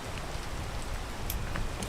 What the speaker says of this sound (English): Let's wait for the rain.